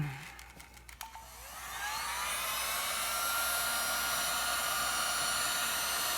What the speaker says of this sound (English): to be able to heat this butter up so we actually have a good measurement, we're going to use my heat gun